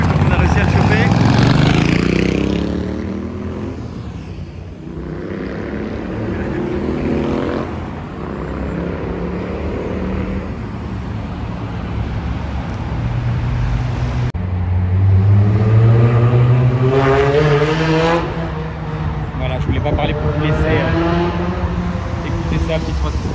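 A Ferrari 365 Spider sports car accelerates up a hill on the street, its engine rising in pitch through gears across two loud pulls, with voices talking over it throughout.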